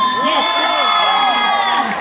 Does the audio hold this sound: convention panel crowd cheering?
yes